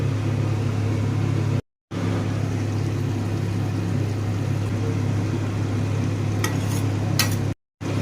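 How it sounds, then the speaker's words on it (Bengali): Water coming to a boil in a cooking pot for a rohu fish curry, a loud continuous rolling bubble and hiss broken by two brief dropouts, with no speech. "জল ফুটতে চালু করেছে"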